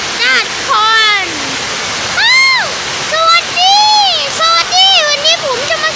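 Heavy rain falls as a storm approaches, a constant, loud hiss of water beneath a voice that talks and calls out in long, sweeping tones over it.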